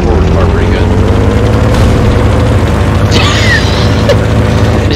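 A loud, continuous rumbling boom in a video game, heavy low-end roar sustained throughout with mechanical noise layered on top, following gunfire at a wall.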